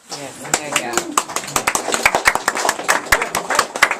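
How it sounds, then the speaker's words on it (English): An audience applauds at a poetry event: loud, close, scattered hand claps building into a dense run, with voices talking underneath. "give a round of applause to everyone"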